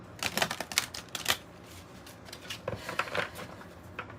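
Oracle and tarot cards are shuffled up close, making quick crisp riffling bursts that come in two rapid flurries.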